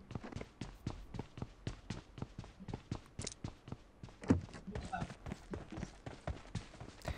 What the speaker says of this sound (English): at this point, I heard a footstep there